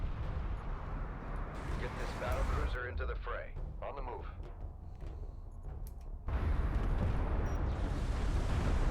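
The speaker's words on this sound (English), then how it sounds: "So much damage coming out from that artillery." Rumbling artillery fire and explosions in the real-time strategy game Deserts of Kharak, a steady low roar of battle with bursts of impacts that swells louder toward the end, while a commentator talks over it.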